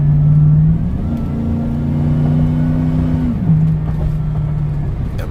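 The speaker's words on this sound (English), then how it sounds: "what you guys hearing now, it does not do justice, man. This damn thing is loud." A 2004 Chevrolet Suburban with a new loud aftermarket exhaust drives along, its deep engine drone holding steady, rising briefly in pitch as it revs, then settling back into a low rumble.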